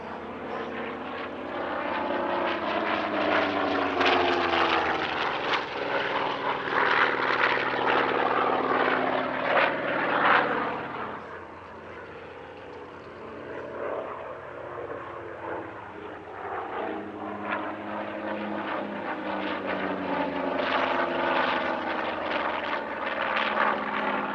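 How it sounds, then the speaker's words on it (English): Heavy propeller aeroplane built for survivability, performing a display at the Air Legend 2024 airshow; a loud, continuous droning engine roar that swells and fades slightly midway before building again, with no talk. "Although it's a large and relatively heavy aeroplane designed for survivability rather than manoeuvrability, in the right hands it is still an immensely impressive performer."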